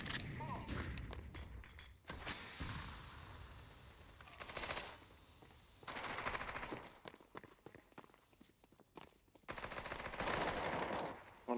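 Counter-Strike 2 gameplay with rapid bursts of gunfire, thuds and a flashbang, loud clusters broken by quieter gaps, with a voice calling out at times.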